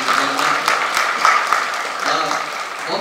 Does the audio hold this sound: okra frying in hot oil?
no